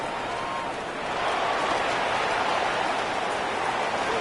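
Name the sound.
rain falling during football game broadcast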